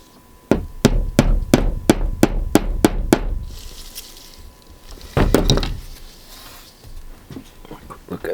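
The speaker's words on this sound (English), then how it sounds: "Where's my little hammer," A small hammer taps a tack into flexible model railway track, giving about eight sharp, evenly spaced close strikes, then a pause and a few more taps.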